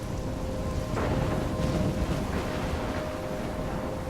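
Heavy rain and rumbling thunder roar without a break in a stormy outdoor scene of the video game Life is Strange, loud and dense, with no talking.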